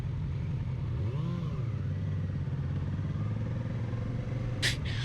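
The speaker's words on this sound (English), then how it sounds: "because this bike is so light, it has pretty good acceleration for the engine size" A 2019 Kawasaki Ninja 650 motorcycle engine runs steadily close by, its note rising briefly as it accelerates, with a short high hiss near the end.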